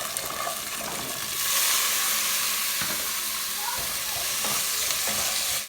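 String beans frying in a covered pan over medium heat, a steady broadband sizzle with faint clinks and stirring noises, close and continuous with no talk.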